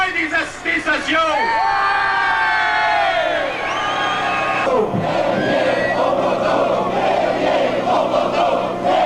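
Crowd of rail workers protesting at a 1995 rail demonstration, loud massed shouting and cheering with rising whoops and a bellowing chorus that stays close and continuous throughout.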